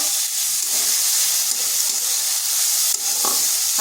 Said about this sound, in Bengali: হালকা একটু ভেজে নিচ্ছি যাতে গাজর আর পেঁয়াজের কাঁচা গন্ধটা চলে যায়।